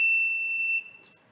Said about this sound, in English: whenever I press the button, you can see the recording buzzer